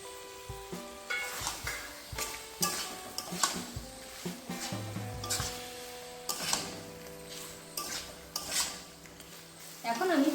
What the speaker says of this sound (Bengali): এখন আমি ভেজে রাখা চিংড়ি মাছগুলোকেও দিয়ে দেবো।